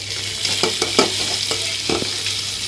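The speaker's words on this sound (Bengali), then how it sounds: "পেঁয়াজ ভাজতেছ?" Onions sizzle in hot oil for biryani under a constant frying hiss, punctuated by several sharp scrapes and knocks of a spoon stirring against the pan.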